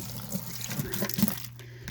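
Aged tap water pouring into a compost bucket, a short watery splash and trickle at close range lasting under two seconds.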